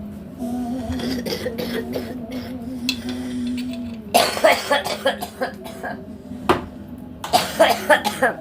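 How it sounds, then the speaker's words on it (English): Several sharp coughs burst out in a cluster, fairly loud and close, following a stretch of steady background voices and clatter. "every time I cough, it's killing me"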